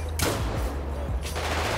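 Gunfire in a video game shootout: a few sharp, loud shots cut through a dense, noisy background in a short burst, with no talking.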